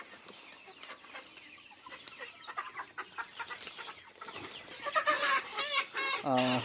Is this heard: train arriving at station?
no